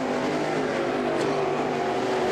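Dirt track race cars roar side by side at an evening oval, a dense, continuous engine drone filling the air, loud and steady throughout.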